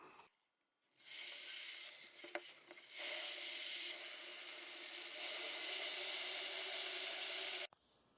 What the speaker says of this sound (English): All right, let's fill up the bucket.